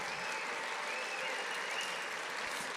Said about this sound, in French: Ouais, vous pouvez applaudir.